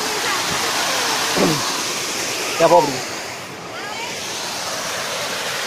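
A steady, broadband rushing roar from the Manimutharu waterfall fills the scene close by, while a few brief voices speak over it.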